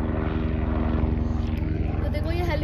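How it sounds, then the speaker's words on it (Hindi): A helicopter's rhythmic rotor thumping fills the scene as it passes over Mussoorie, with a person talking over the steady beating. "तो देखो ये हेलीकॉप्टर जा रहे हो राइट साइड में,"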